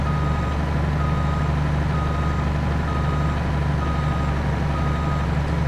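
A truck's reversing alarm in Farming Simulator 22 on the Calmsden dairy farm, a steady string of loud, evenly spaced electronic beeps over a constant diesel engine drone.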